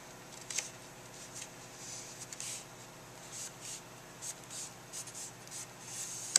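A scoring tool burnishes folded paper with soft, brisk rubbing strokes repeated in short, irregular bursts, close and quiet over a faint hiss.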